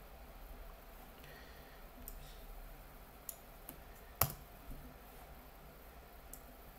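A computer mouse gives one sharp, close double click over a quiet room hum, with a few fainter clicks scattered before and after.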